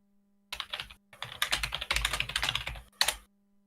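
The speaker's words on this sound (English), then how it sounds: "your typing is still coming through on the stream" Rapid, uneven typing on a computer keyboard during a live stream: dense clusters of close key clicks in short bursts, with a brief pause and a final flurry of keystrokes.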